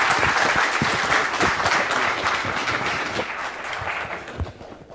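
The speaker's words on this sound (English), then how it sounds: "So give him a big applause and welcome." Audience at a DEF CON 25 Crypto Village conference talk applauding a speaker, a dense crowd clapping that fades slightly toward the end.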